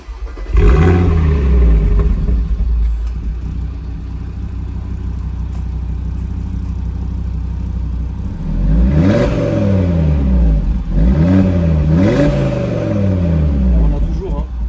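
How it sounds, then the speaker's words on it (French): Audi RS3 engine idling with a deep, close rumble, then blipped several times so the revs rise and fall in quick surges toward the end. "On a toujours ce son propre à l'RS3, toujours."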